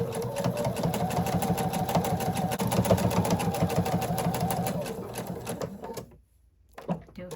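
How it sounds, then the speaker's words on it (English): A sewing machine stitches denim appliqué onto a pet portrait pillow, a loud rapid mechanical chatter running steadily for several seconds before stopping, then a short clunk. "I'm sewing needle stop down, so every time I stop, the needle is down in the fabric"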